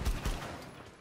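Gunfire in Rainbow Six: two rapid, loud shots close together, with a short reverberant tail fading out after them.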